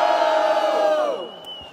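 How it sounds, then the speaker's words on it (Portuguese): A crowd at a Brazilian rap battle lets out a loud, sustained collective roar of cheering and shouting that fades off toward the end. "Barulho só pra quem achou que foi Zeke"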